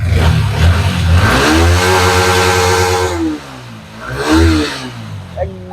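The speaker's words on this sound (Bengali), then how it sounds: "গাড়ির সাউন্ডটা না দেখলে বুঝতে পারবেন না" A second-hand 2021 MT motorcycle engine in fresh condition revs hard up close, climbing in a long rising roar and dropping back before a second shorter rev, loud and dominant.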